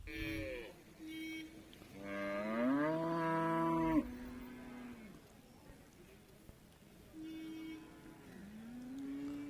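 Several long, drawn-out buffalo moos with rising and falling pitch at a livestock market, fairly close, separated by short pauses over a low murmur of background noise.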